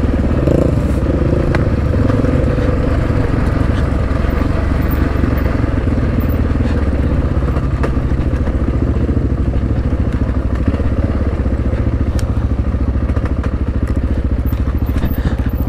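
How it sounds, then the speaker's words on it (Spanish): ATV quad engines, a Yamaha Raptor 700 and Honda FourTrax 420, revving hard on a winding dirt road, a loud, continuous close engine roar with rattling and crunching gravel throughout. "Ese viejo le da gas a esa cuatrimoto."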